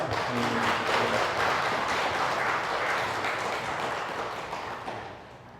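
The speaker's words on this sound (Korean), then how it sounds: "큰 박수로 한번" A church congregation claps together at an afternoon homecoming service, a dense, steady wash of applause that holds for several seconds before tapering off and fading toward the end.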